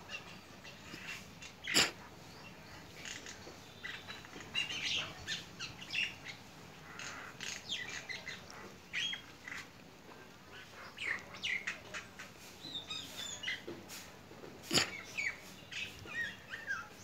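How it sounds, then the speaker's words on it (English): A black crow eating a ripe mango outdoors gives a few loud, sharp caws, including two clear ones, over a background of distant chirping birds and faint rustling. "Look at this crow. Crow eats rip mango."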